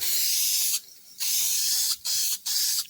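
Protective coating sprays from an aerosol onto bare metal and rust-converted areas of an XC Ford Fairmont GXL front door lower skin, heard as four close, sharp hissing bursts separated by short pauses.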